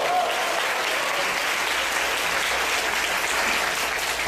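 A magic-show audience breaks into steady, sustained applause, dense clapping that holds at an even level for the full length without pause.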